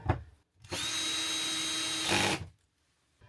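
A power drill driving small screws into aluminium trim on a caravan: a short click, then one steady high whirring run of about a second and a half that strains briefly before stopping, loud and close.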